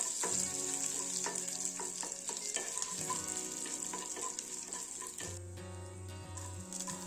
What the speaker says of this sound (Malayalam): ഇനി ഇതൊക്കെ എണ്ണയിൽ കിടന്നിട്ട് നന്നായിട്ടൊന്ന് മൂക്കട്ടെ.